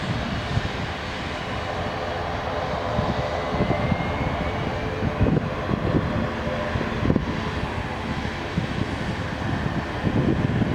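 A TAP Air Portugal Airbus A321-251 taking off at Lisbon Airport: a broad, steady jet engine roar that holds strong over the whole stretch, with some wind buffeting on the microphone and no talking.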